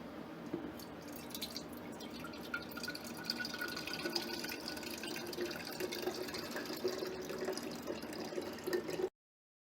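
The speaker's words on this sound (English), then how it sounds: "I'm just going to pour that into a mason jar." Turmeric juice, thawed from frozen, trickles and drips steadily into a glass mason jar, a soft continuous liquid pour lasting several seconds, fairly faint and close, with no talking.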